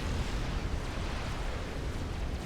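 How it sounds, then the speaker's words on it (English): Long-range plasma cannon hits pound a shield in a strategy video game, a dense, continuous roar of explosive rumble and crackle, loud and unbroken, with no voices. "getting hit by long-range plasma cannons"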